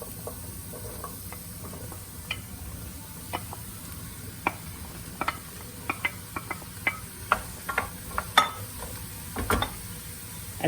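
Sliced zucchini stirred in a hot pan after leeks and garlic, a soft sizzle underneath with irregular scraping clicks of a utensil against the pan, growing busier toward the end.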